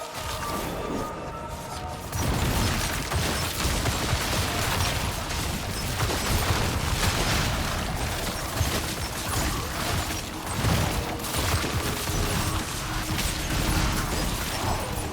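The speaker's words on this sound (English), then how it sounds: "we're still getting a load of poison explosions" Poison explosions from a Rogue build in the video game Diablo 4, a dense, continuous barrage of popping bursts and clattering mechanical hits that stays loud and busy from start to finish, with no voices.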